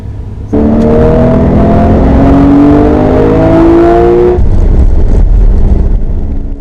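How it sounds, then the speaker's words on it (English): A Porsche 991 Targa 4S sports exhaust snarls in as the car accelerates on open road with the roof down, engine pitch rising steadily, then drops to a deeper, rumbling cruise with wind noise. "So here you have a bit of open road driving, roof down, sports exhaust on."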